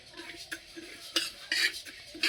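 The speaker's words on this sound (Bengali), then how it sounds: "মুগ ডাল ভাজা হচ্ছে" A spoon scrapes and clatters against a pan as moong dal is dry-fried and stirred for khichuri, making quick, close, irregular metallic strokes.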